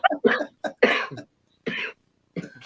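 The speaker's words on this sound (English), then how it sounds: "Nah, this is a flipping cough," A man coughs several times in short, harsh bursts close to the microphone, separated by brief pauses, with no other talk.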